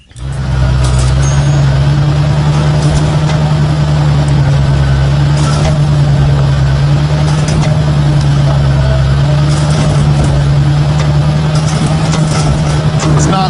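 The engine of a 1970 Challenger truck buggy runs nearby as a loud, steady low drone that holds for the whole stretch, with faint voices underneath.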